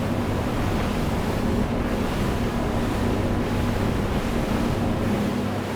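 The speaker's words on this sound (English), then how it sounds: "Out here, in rougher waters, the waves have grown" Rough sea waves wash steadily around a Salpa Soleil 52 maxi RIB cruising through choppy water, with constant wind buffeting the microphone and a low engine drone underneath, loud and unbroken throughout.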